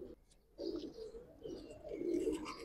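Pigeons cooing softly at close range in a loft, with low murmuring calls repeating in a loose rhythm at a fairly quiet level and no talking.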